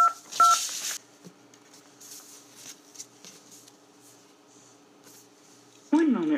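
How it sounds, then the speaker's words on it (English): Touch-tone keypad dialing: a quick burst of dual-tone beeps at the start, followed by a quiet gap. An automated Verizon phone-system voice returns at the end. "Enter the phone number, starting with the area code, or the account number associated with your Verizon service."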